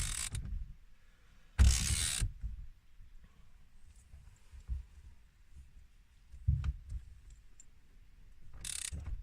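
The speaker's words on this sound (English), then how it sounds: "Hold the wheel and start to bolt it down." Ratchet clicks and a few broadband bursts as a steering wheel is bolted down on a Nissan K11 (Micra), close and fairly quiet, with irregular pauses between short ratcheting strokes and no talking.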